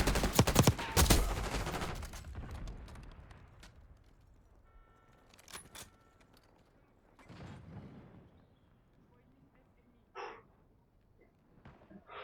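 Gunfire and a stun grenade in the video game Black Ops 6: a loud burst of rapid shots up front, then scattered fainter shots and bangs with brief sharp effects, mostly without talk.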